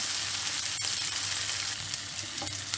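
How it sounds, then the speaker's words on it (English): Onion slices fry in plenty of butter in a pan, a steady, fairly loud sizzle with a soft crackle, a single sharp tap near the start and faint stirring sounds toward the end. "Allow the onion to cook a bit"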